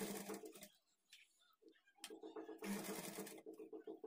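A sewing machine stitches narrow folded piping onto a plain blouse in short, close runs of rapid whirring, broken by brief pauses.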